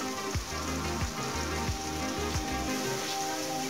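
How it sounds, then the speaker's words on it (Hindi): Masala with coriander powder and garam masala frying in a pan gives a steady, close sizzle and crackle that lasts the whole time. "और अब इसको अच्छे से फ्राई करेंगे।"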